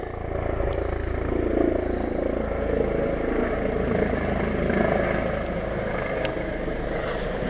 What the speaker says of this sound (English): Chopper there, low flying.